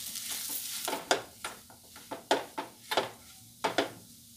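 Boiled potatoes being stirred into a frying vada pav filling in a pan, heard as about ten close, distinct scraping strokes in an uneven rhythm over a faint sizzle.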